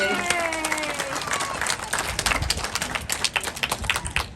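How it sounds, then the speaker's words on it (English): An audience at a safari park sea lion show breaks into dense applause with scattered cheers. A voice carries on over the start of the sound before it swells into a close, steady clapping crowd. "Let's give him a massive round of applause,"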